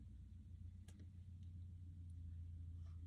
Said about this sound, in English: Someone is driving past my house really slowly in a convertible